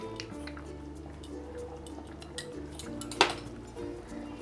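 A lid is set onto a cooking pan of parshe fish with cauliflower and potato, making a single sharp clink near the end over a low, quiet kitchen hum.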